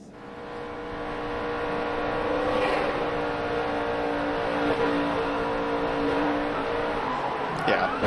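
A race car at Talladega during the General Tire 200, heard from inside the cockpit as a steady, loud engine drone that holds from start to finish with a brief clatter near the end.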